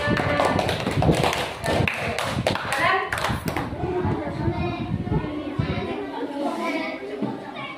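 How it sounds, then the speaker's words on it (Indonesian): Classroom of fifth-grade children clapping for a group at an elementary school, a dense patter of many small hands, loud and close, with children's voices and chatter mixed in and fading toward the end. "Tepuk tangan untuk kelompok 2"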